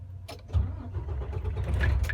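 A semi truck engine cranks and fires up, then settles into a steady, close diesel idle rumble with no talking.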